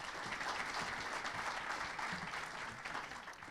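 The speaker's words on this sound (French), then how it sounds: "Et vous avez le droit de les applaudir." A seated audience applauds panelists at an entrepreneurship meetup in Nantes, with even, continuous clapping at moderate distance that holds steady for a few seconds and tapers slightly at the end.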